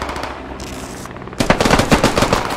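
Rapid automatic gunfire in the military shooter game Squad: loud and close, a dense rattling burst of repeated shots after a brief stretch of steadier noise. There is no talking.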